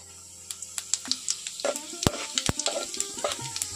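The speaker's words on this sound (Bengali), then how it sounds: "আর এখন দিয়ে দিচ্ছি পাঁচফোড়ন হিসেবে দিয়ে দিচ্ছি দারুচিনি, এলাচ, লবঙ্গ।" Cinnamon, cardamom and cloves sizzle in hot mustard oil, a steady soft frying hiss with scattered sharp crackles and pops, quiet and close.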